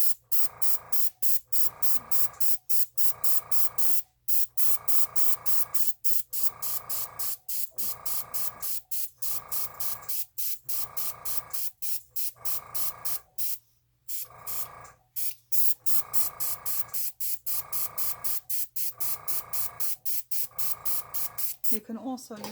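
Short repeated spritzes of alcohol from a spray bottle onto an alcohol ink painting, a rapid close rhythm of hissing bursts with brief gaps, continuing steadily throughout.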